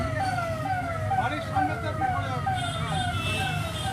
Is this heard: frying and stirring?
no